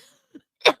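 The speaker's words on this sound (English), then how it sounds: "I'm coughing." A single short, close cough, preceded by a faint throat sound, in a quiet room during a podcast.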